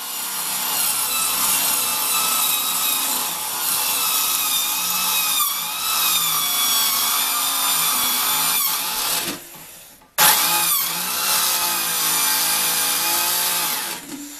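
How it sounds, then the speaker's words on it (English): A cone drill bit grinds continuously through sheet metal with a loud, harsh whine, briefly cutting out and then starting up again. "I decided to use a cone drill that I bought a while back"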